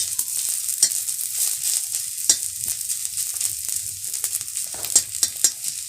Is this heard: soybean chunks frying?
yes